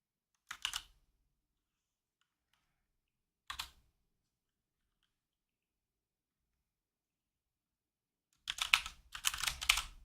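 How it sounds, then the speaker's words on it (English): Quiet computer keyboard typing in three separate bursts of rapid keystrokes, two short and one longer at the end, with silence between and no talking. "Let me type."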